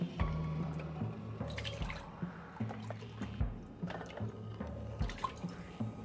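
Beef broth poured into a pot, close splashing and dripping liquid with uneven gurgles and small knocks.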